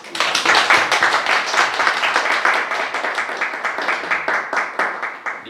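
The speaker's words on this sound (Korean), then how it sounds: "우리 하나님께 감사하는 마음으로 박수 드리겠습니다" A church congregation applauds in thanks during a service, steady dense clapping close and loud for several seconds, thinning slightly toward the end.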